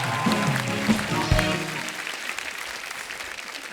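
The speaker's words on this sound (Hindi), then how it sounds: "जोरदार तालियां हो जाएं।" Studio audience at a Hindi comedy talk show breaks into loud, sustained applause, with music and a brief voice over the first seconds before the clapping carries on alone.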